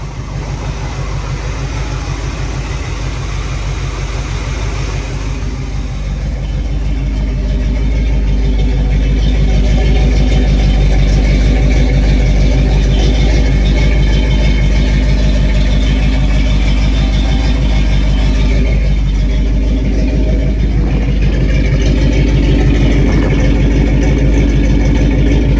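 The engine of a 1971 Ford F250 4x4 pickup idles fast on the choke with a loud, steady, deep rumble close by, settling into a fuller, even drone partway through.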